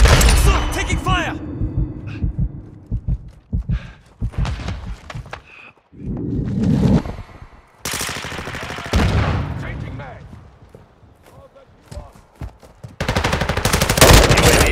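Bursts of automatic gunfire and single shots in Call of Duty: Modern Warfare II multiplayer, loud and close, broken by short pauses, with voice callouts mixed in.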